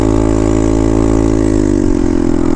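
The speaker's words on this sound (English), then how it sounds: "It sounds like the exhaust just blew apart." A Honda motorcycle with a blown, failing exhaust roars loudly and continuously, a harsh close-up engine drone with a slight pitch drop near the end and no distinct individual pops.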